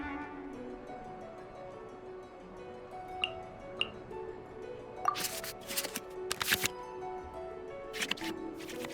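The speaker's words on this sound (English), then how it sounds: "we can select any number of cards in our hand to shuffle back into the draw pile, and then draw the same number of new cards" Digital cards in the Genshin Impact card game are shuffled back into the draw pile, giving a quiet series of soft ticks and then clustered riffling flicks over a faint musical backdrop.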